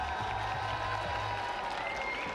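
Fans cheer and applaud at an esports world cup watch party, a steady dense wash of clapping and crowd noise held at an even level throughout.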